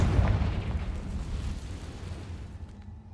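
A Confringo fire spell bursts in Hogwarts Legacy, a loud booming blast that rolls and fades over a few seconds.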